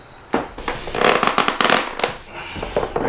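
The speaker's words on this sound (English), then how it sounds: "Sorry for that absolutely awful noise that this foam makes." Foam padding on a kayak seat squeaks and crackles as the seat is tightened down, giving a close series of harsh, uneven creaking bursts.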